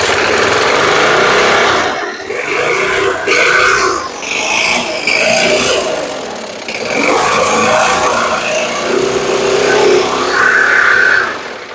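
A Briggs & Stratton lawn mower engine with an over-revving fault runs after being primed, loud and close, a harsh high buzzing that surges and dips in speed several times with brief drops around the middle.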